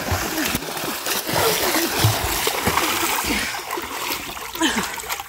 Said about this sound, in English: No need to swim so hard, kids.